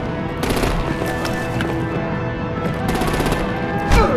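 Rapid machine-gun fire rattles in dense, loud bursts throughout a combat scene in the video game Batman: The Enemy Within, the Telltale Series, with short breaks between volleys.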